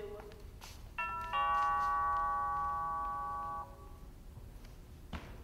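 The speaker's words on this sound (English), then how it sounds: "There's the doorbell." A two-tone doorbell chime rings out clearly indoors during a middle school stage play, its tones lingering and fading over a couple of seconds amid quiet room noise.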